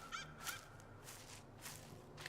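Birds call outdoors in the video game Unmourned: a few short, quiet, bright chirps and squawks in quick succession over a low background, with no talk.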